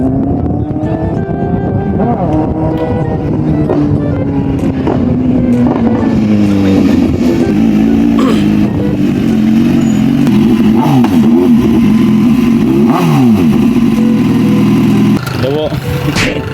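Loud motorcycle engines, Yamaha MT-09s at a bike meet at sunset, rev and roar past up close with rising and falling pitch, gear changes and throttle blips, with voices in the background.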